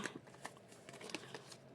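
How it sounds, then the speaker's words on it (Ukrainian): Quiet, papery riffling of tarot cards being shuffled up close, a series of light flicks and snaps in quick irregular succession. "Ой, карти перемішались."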